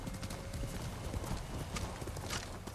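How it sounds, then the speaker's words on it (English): Horse hooves clip-clopping in the video game Ghost of Tsushima, a quiet steady trotting rhythm under a continuous wash of ambient game noise. "Where'd the horse go?"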